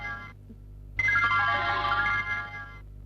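A mobile phone ringtone plays a short melodic tone, pauses, then rings out loudly for about two seconds before fading, heard close with no talking.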